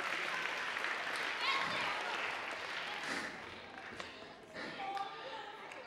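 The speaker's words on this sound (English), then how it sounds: "Big applause to the 2 brave volunteers." Audience applause for two volunteers at a live science show, a broad wash of clapping lasting several seconds with a voice or two mixed in and the crowd noise tapering slightly toward the end.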